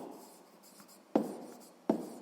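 Pen or chalk scratching out a sixth-grade maths solution, a steady soft writing texture with two sharper taps as strokes begin, close and quiet with no talking.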